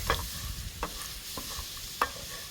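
Erişte noodles roasting in oil in a pan, a steady sizzle under a few sharp scrapes and stirring knocks spaced about a second apart, close and moderately loud.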